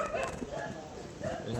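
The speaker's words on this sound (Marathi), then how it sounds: "इकडे कुत्रेले भुंकतायत तसे बघायला गेलं." Dogs bark and yip outdoors near a beach by the sea, several short barks in quick succession at moderate distance, mixed with a voice talking.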